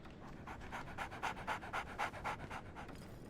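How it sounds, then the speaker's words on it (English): A dog pants in the video game Sherlock Holmes The Awakened, with quick rhythmic breaths that swell to a louder burst midway and then ease, close up and alone with no talk. "So, Barnes has a dog now."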